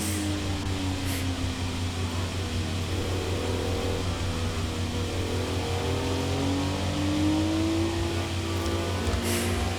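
Several 1967 racing cars, including a Mustang and a Corvette, run close together through an overtake at the Paramount Ranch SCCA circuit, with a steady engine drone and rising and falling revs that carry on without a break.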